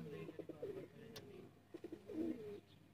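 Teddy pigeons for sale in Sialkot coo close by in two low, throaty bursts, each a few rolling pulses, with a short pause between them.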